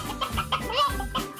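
Short, chicken-like clucks come in a quick burst of choppy bird calls, close and fairly loud.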